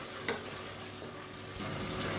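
Finely chopped tomatoes sauté in hot oil with fennel seeds in a pan, giving a steady close sizzle and crackle with faint stirring, no voices.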